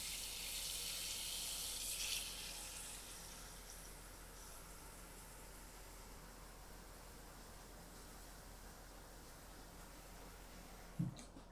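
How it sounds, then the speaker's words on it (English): Cold tap water runs into a bowl in a kitchen sink for salad washing, a steady soft hiss that thins after a couple of seconds, ending with a brief clunk. "So I fill the bowl with cold water."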